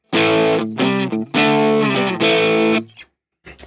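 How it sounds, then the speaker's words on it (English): Heavily distorted electric guitar through a Randall RM100 amp, chugging out thick, crunchy chords in short bursts, loud and close, ending with a brief pause and a final hit. "dig in, get some distortion"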